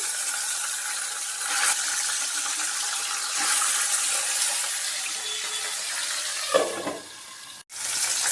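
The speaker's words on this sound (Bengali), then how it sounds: "মাছগুলো তেলের মধ্যে দিয়ে দিচ্ছি" Parshe fish sizzle in hot oil in a wok, a steady bright hiss that carries on without talk, with a short clatter near the end.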